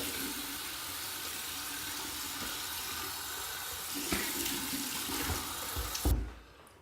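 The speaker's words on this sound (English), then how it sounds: "now we're gonna go over to cold water." Water pours steadily from a tap into a sink, a constant rushing splash that swells briefly before being shut off abruptly.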